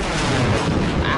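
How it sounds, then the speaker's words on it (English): A loud, dense explosion from a gas attack in the video game Generation Zero, a continuous rumbling blast that fills the whole moment with heavy low-end roar. "plus a painful explosion"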